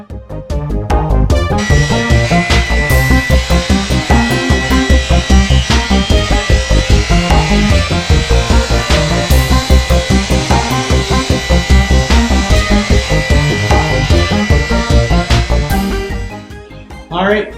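Power saw cutting a wooden attaching board during a spare room renovation, a loud continuous buzzing cut running steadily for about fifteen seconds before winding down, with a brief burst at the end.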